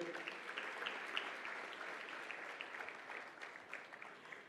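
A conference audience claps in continuous, even applause from a dense crowd at moderate volume, with scattered sharper claps standing out now and then.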